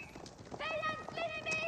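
Horse hooves clip-clopping in Age of Empires 4 battle gameplay, a steady clatter with a brief whinny-like harmonic tone layered over it, blended with game effects and a commentator's voice.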